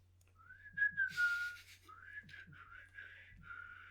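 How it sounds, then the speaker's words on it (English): Someone attempts to whistle, producing a breathy, wavering tone that cracks into short airy bursts, close and fairly quiet over a low hum. "It's okay, I can't whistle either."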